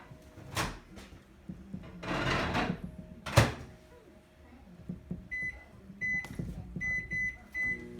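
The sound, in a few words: Stack cooker going into the microwave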